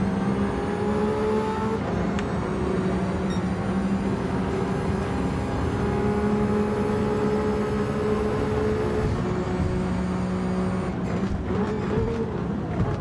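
Race car engine in Gran Turismo 7 during lobby racing: a steady, loud, droning engine note that holds constantly throughout, with brief shifts in pitch near the end.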